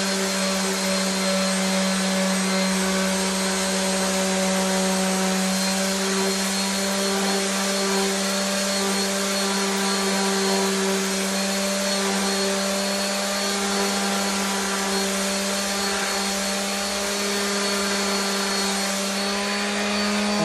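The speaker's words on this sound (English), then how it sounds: "grit on my Bosch random orbital sander" A steady, loud Bosch random orbital sander sanding a wooden bookshelf whines continuously with a constant pitch and buzzing hum, with no talking and no pauses throughout.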